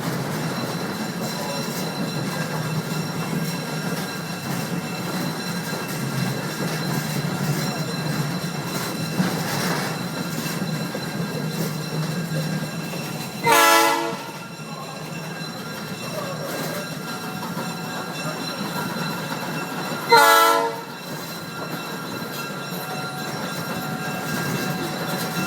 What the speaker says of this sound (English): about to go over a crossing, and the engineer will sound the train horn.